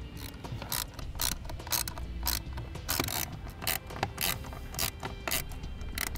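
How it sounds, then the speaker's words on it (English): Tekonsha brake controller fastened into its dash bracket with small 1/4 inch screws in a 2017 vehicle, a run of close, dry ratcheting clicks and mechanical ticks repeating steadily with no talking. "slide our brake controller into the bracket and secure it with the provided screws"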